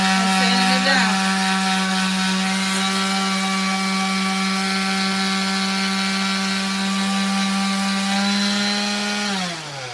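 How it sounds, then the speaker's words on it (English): A 3D-printed Iron Man helmet being sanded with 220-grit sandpaper, heard as a continuous loud rasping drone with a steady hum beneath it that stops abruptly near the end. "with the 220, I'm going in and sanding it down."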